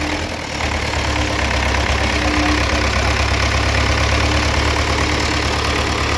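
MTZ-82 tractor diesel engine running with the throttle pressed by foot, a loud steady close rumble that holds level throughout.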